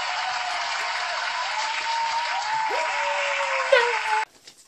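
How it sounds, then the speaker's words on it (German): Dense, steady applause for the winners of an online channel giveaway, loud and continuous before cutting off abruptly near the end, with a faint tone running underneath. "Applaus an unsere Gewinner!"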